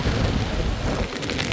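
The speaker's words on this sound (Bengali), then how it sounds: "হাওয়াতে ছাতা ধরা যাচ্ছে না, এত জোরে হাওয়া।" Strong wind blows on Radhanagar beach, Havelock, as a loud, continuous buffeting roar across the microphone, with no voices.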